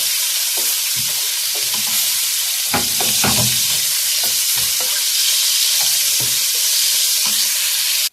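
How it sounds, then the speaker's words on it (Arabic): Bell peppers sautéing with onion and carrot in a pan, a loud, close, continuous sizzle with repeated stirring scrapes and spatula knocks throughout. "تشويحه مع البصله والجزره زي ما انتوا شايفين كده"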